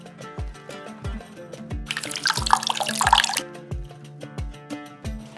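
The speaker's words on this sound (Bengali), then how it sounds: "এরপর জল নিগড়ে নেব। বেশ ভালো করে জলটাকে নিগড়ে নিয়েছি।" Water wrung from soaked, swollen soybeans by hand, a wet burst of splashing and trickling into a bowl lasting about a second and a half, set amid steady rhythmic low thumps and a faint tonal background.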